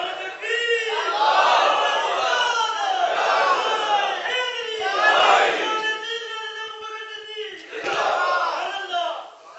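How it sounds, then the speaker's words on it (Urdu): A large crowd at a religious speech shouts slogans in unison in loud, repeated surges, with strong massed voices rising and falling across the whole stretch. "گجرا خالی نعرے مار رہے ہیں یا اوکھے ویلے پیچھے بھی آئیں گا؟"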